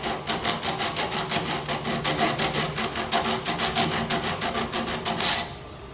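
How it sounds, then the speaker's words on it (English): An AK rifle safety part is polished down by hand with quick rhythmic rasping strokes, roughly three per second. The strokes are close and even and stop abruptly near the end, with no talk. "just polish that down a little bit"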